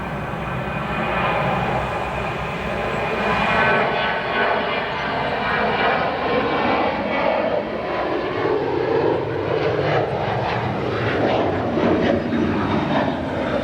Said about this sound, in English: we have a Star Alliance livery, United 737-800 departing 28 right